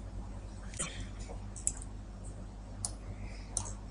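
A few faint, sharp mouse clicks, spaced irregularly over a quiet background hum in accounting software on a computer.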